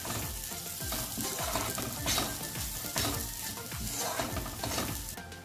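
Ground bitter gourd stuffing frying in a kadai, a dense continuous sizzle broken by frequent scrapes and taps as a spoon mixes it, heard close with no talk.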